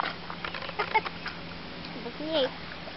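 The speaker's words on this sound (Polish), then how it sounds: "kaczki też się z nas śmieją" Ducks on the water at an outdoor pool area where dogs are allowed give a few short, faint quacks over a quiet background, with soft voices nearby.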